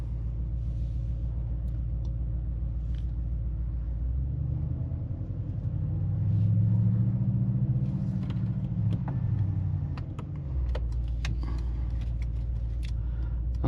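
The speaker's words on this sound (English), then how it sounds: "check out the performance of the engine as we begin." A 2025 Mercedes-Benz GLE SUV engine runs at a steady low idle, then swells into a louder rumbling rev for several seconds before settling back, with no talking over it.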